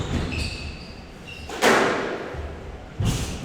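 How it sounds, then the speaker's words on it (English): Squash ball struck hard on a backhand deep into the forehand corner in a Premier League match, a sharp close crack followed by another impact a second later, with faint squeaky court sounds before. "Nice shot there from Leo FATIALOFA, the backhand, putting it deep into the forehand corner"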